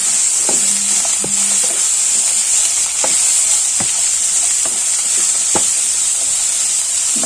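Salted ivy gourd stir-fry in a pan with chilli flakes, a steady hiss of sizzling oil broken by several sharp spatula knocks and scrapes as it is stirred, no speech.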